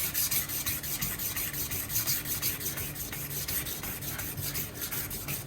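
A single-bevel Japanese deba kitchen knife blade is polished with a fine-grit waterproof sandpaper sheet, giving a close, continuous gritty rubbing in quick back-and-forth strokes with no talk.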